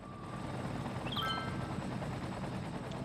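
Disaster response helicopters in the city-building game Cities: Skylines give a continuous rapid rotor chop, loud and steady, with a brief higher whine partway through.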